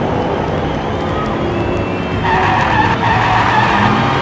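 Diecast miniature toy cars racing on a track, with continuous loud rolling, rumbling and skidding noise from the little wheels as a Tesla flips in a corner, the sound growing busier toward the end.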